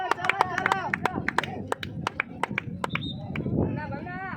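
Scattered, uneven applause rises at a UASD South Zone 2024 defence competition, sharp individual claps close by under frequent talking and shouting voices.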